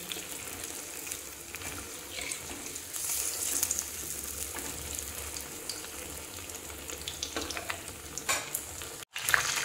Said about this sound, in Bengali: এই যে দেখেন এইভাবে আমি এখন তেলটা উপরে দিয়ে দিচ্ছি। ব্রেডটা আমি উল্টিয়ে দেব।